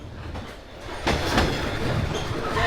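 A train rolls through Hanoi's narrow train street, a steady rumble and rattle of carriages on the rails with a louder surge of wheel and track noise midway, continuous and close.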